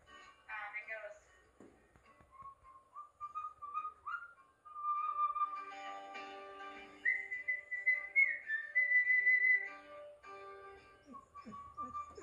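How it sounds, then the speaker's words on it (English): Someone whistles a trumpet part as a bright melody of held and sliding tones, nearby and clear, with short pauses between phrases during a music class. "if you're a whistler, you can try whistling the trumpet part"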